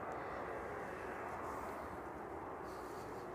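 A DHL Boeing 767, arriving from JFK, taxis toward the cargo apron at East Midlands airport in the evening, giving off a faint, steady, distant jet-engine roar with no break.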